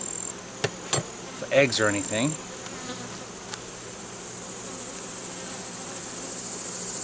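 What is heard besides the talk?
honeybees buzzing in an open hive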